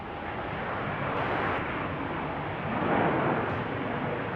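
A fixed-wing airplane takes off from runway 35 at Salt Lake City, a broad, steady engine roar heard from a distance across the whole span, with no talking.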